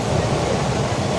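Passenger train running while travelling on board, a steady close rumbling roar with a faint rhythmic undertone filling the whole short stretch, with no voices.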